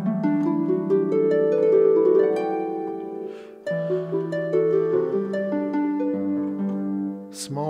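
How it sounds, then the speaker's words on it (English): Melodic plucked-string tones from a harp voice on a Nord Electro 6 keyboard, played as flowing arpeggios and chords with no talking, steady and fairly loud. "Harp."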